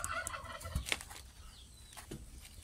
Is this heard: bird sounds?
yes